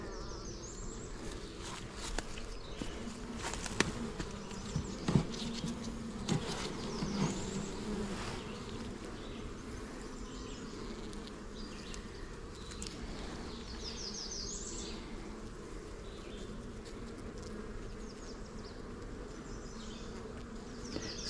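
Honey bees buzz in a dense, steady drone during an inspection of a hive being given new foundation, close and continuous throughout, with a few faint knocks of frames early on and no talking.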